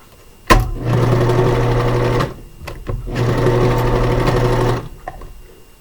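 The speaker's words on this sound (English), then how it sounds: "I stitch the casing closed outside of the serging line" A serger runs close and loud as it stitches an elastic casing on a cloth diaper, two sustained bursts of rapid whirring separated by a brief pause.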